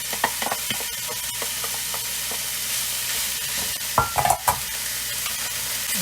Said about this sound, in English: I'm going to throw this in to the frying pan next